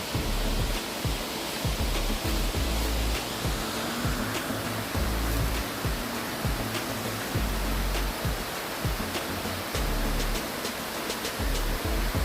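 The waterfall at Shaw Park Botanical Garden in Jamaica pours down from high up, a steady, even, full roar of rushing water with no break and no voices.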